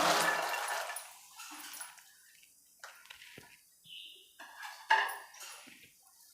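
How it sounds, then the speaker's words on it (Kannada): About a kilogram of avarekalu (field beans) tipped into a pot of hot water for boiling, giving a run of wet splashing and pouring bursts that come and go, close by, with no talking. "ಒಂದು ಕೆ ಜಿ ಕಾಳಷ್ಟು ನಾನು ಈ ಬಿಸಿನೀರಿಗೆ ಹಾಕಿ ಬೇಯಿಸ್ಕೊತೀನಿ"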